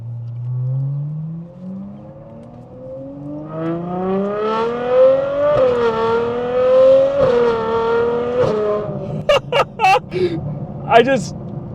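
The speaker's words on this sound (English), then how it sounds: "this is my first time driving an 812 GTS, and this thing sounds ridiculous" Widebody Ferrari 812 GTS V12 revving up in a long rising climb to a loud peak, then sharp throttle blips, with a voice talking over it.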